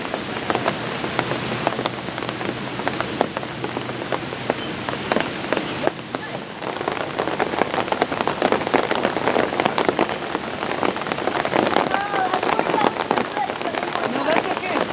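Steady rain pattering on a muddy, hilly disc golf course during an amateur championship round, dense close drops hitting surfaces throughout, with a brief voice partway through.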